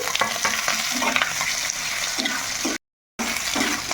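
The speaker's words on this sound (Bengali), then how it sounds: "তো আলুটা একটু ভাজা ভাজা করে নিলাম" Boiled, diced potatoes fry and sizzle in a pan while being stirred, giving a steady, close crackling with scraping stir sounds; a brief silent gap breaks the sound near the end.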